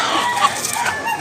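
An eight-month-old rooster gives a brief, close cluck over light background noise.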